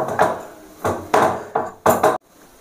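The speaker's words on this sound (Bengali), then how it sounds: "আমি ডিমটাকে সুন্দর করে এভাবে সরু সরু করে কেটে নেব।" A knife chops a boiled egg into thin strips on a board for egg chicken chowmein, giving five crisp, close knocks in an uneven rhythm, then silence.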